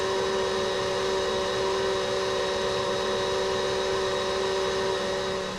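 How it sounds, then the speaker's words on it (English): An electric mixer whirs steadily on high speed while beating eggs for a pumpkin roll, a constant loud, even whine with no pauses and no speech. "Beat the eggs on high for 5 minutes or until the eggs are pale yellow. While your mixer is on"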